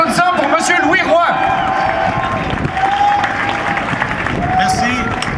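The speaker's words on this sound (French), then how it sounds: "Une bonne main d'applaudissement pour M. Louis Roy." An audience at an evening show against a price hike applauds the president of the CSN union: sustained, dense clapping from a large crowd, with voices and cheers mixed in.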